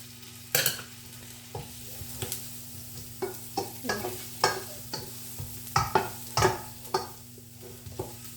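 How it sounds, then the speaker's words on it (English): Garlic frying in butter on a stovetop, a soft sizzle punctuated by repeated stirring scrapes and clacks against the pan over a steady low hum. "now I'm gonna turn on the stove and I'm gonna add the butter and the garlic"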